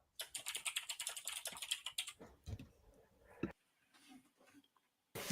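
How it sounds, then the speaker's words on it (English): Fingers type quickly on a computer keyboard, a close, rapid run of clicks for about two seconds, then a few scattered keystrokes and pauses before a final burst. "And then you can start typing again."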